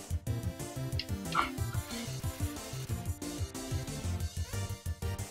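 An excited dog in the video game Undertale yips and barks in quick repeated bursts over steady background game music, with no talking.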